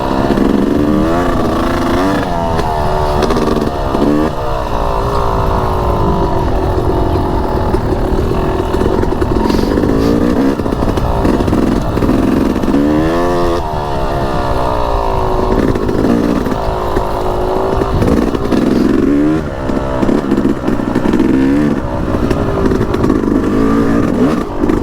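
A Yamaha YZ250X two-stroke dirt bike climbs over rocky terrain, its engine loud and close, revving and dropping repeatedly with scrapes and clatter.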